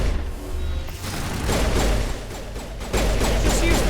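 Continuous gunfire in a sci-fi shooter video game, dense rapid bursts and crackling shots layered over a steady low rumble, loud and close throughout with no pause.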